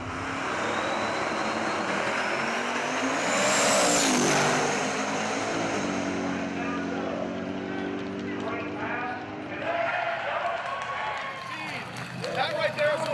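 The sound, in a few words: drag race car making a record run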